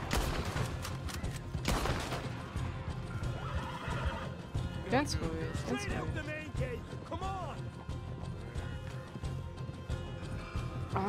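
A horse in Red Dead Redemption 2 whinnies and neighs in distress amid crackling fire and hoofbeats, its calls rising clearly over a dense, busy game soundscape while someone speaks over it.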